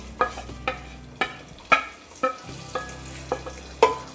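A medium-sized, roughly chopped onion sizzles steadily in a hot pan, with a regular series of sharp scraping stirs from a spoon, close and clear with no talking.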